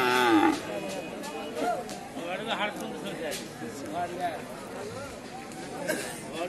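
Cattle at the Sotihat livestock market beside the Naogaon–Rajshahi highway give repeated drawn-out moos, some close and some farther off, over a steady hubbub of people chatting and bargaining.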